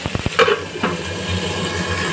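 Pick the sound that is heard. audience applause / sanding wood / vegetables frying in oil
vegetables frying in oil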